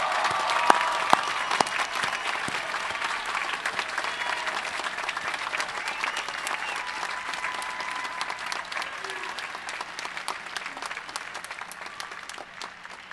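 Large commencement crowd giving graduates a long round of applause, dense continuous clapping heard from a distance in a big space, with a few sharp individual claps standing out near the start.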